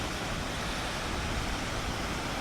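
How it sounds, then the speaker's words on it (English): Strong wind roars over Loch Etive near Oban, with choppy whitecapped waves breaking. It comes as a dense, steady rush of noise with no pauses and no voices. "So the wind's really starting to pick up now, and I'll try and zoom in to the water, Loch Etive, and there's a lot of white horses there"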